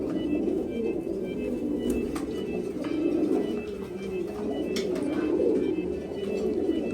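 Several newly acquired pigeons coo nearby in soft, low, repeated throaty calls over a constant background hum, with faint chirps and clicks and no speech.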